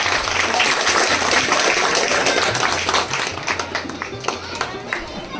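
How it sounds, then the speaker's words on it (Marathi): Villagers at the inauguration of a community hall in Kore clap together during an honouring ceremony, a dense, loud, continuous applause that thins slightly toward the end. "सर्वांनी टाळ्या वाजवायचे"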